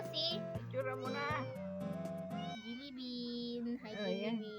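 Jellybean the cat meows several times in a row, close and clear, while someone talks and coos to her over the meows.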